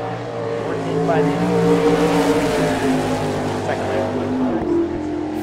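Keith Baxter's sprint car, a Maxim chassis with a Hogue racing engine, qualifying at an Ohio dirt speedway, its engine droning steadily and loudly throughout with a layered, sustained roar.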